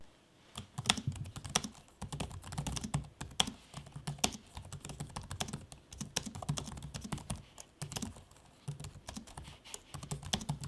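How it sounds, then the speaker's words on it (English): Typing on an HP Envy x360 laptop keyboard, a steady run of quick, crisp key clicks with uneven rhythm and occasional louder taps, close and clear with no talking. "listen to me typing and then using the trackpad"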